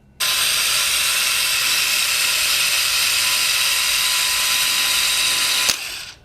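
A SEESII cordless caulk gun runs at its highest speed while dispensing silicone, giving a steady, loud mechanical whir that holds evenly for about five seconds and then stops abruptly with a small click.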